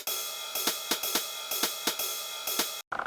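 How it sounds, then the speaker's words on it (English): Offbeat ride cymbal sample in a lo-fi house track, bright shimmering hits recurring between beats over a dense mix, cutting out abruptly near the end. "we're going to put an offbeat ride here in this one"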